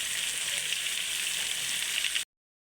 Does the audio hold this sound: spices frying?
yes